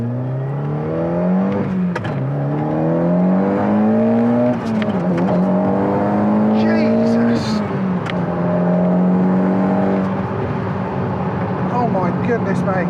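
A tuned 460bhp Audi S3 accelerating hard on main roads, its engine note climbing quickly and dropping sharply at gear changes, close and loud inside the cabin with wind noise and a few short bursts of speech.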